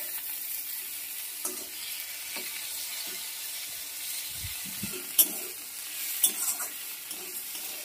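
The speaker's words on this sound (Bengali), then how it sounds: "এবার এই টমেটোটার মধ্যে দিয়ে দিলাম, দিয়ে ভালো করে নাড়াচাড়া করব" Tomatoes fry in a pan with fried ingredients for a Bengali chhyachra dish while a spatula stirs them, making a soft ongoing sizzle with scraping strokes and a few sharp knocks against the pan, close and without speech.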